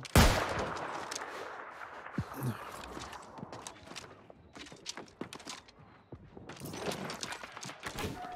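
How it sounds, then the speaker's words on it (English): Musket fire in the online game New World during a fight in Brimstone Sands, with sharp irregular shots near and far and scattered clatter over a noisy battle bed, players talking over it. "Keep shooting, guys."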